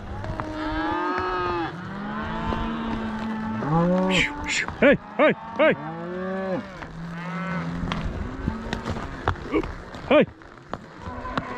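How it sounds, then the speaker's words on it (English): Cattle being driven to a corral let out repeated loud moos, some long and drawn out and others short and overlapping, with someone shouting to urge the herd along. "So this group of cattle are ready to go."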